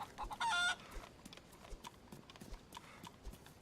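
A chicken in the DayZ survival game gives a short, sharp cluck, faint and set among quiet, scattered tapping footfalls and low background ambience.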